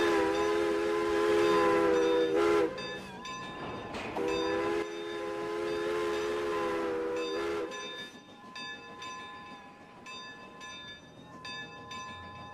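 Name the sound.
train with odd bell from a video game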